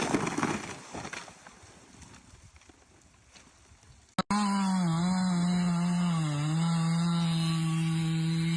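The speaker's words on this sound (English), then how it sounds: "A perfect coordination between the roaring chainsaw and the powerful strikes of the hammer against the wedge." A big chainsaw works on a large tree during logging. Irregular knocks and clatter fade out, then a sharp crack comes, and the saw snarls in at a loud, close, sustained whine with slight pitch wavers.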